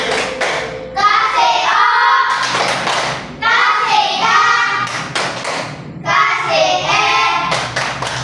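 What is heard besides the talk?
children clapping hands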